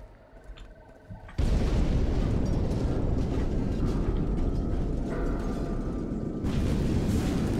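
A bridge explosion in Far Cry 2 hits abruptly after a quiet moment, then roars on as a long, loud rumbling blast with debris and fire noise that continues for several seconds.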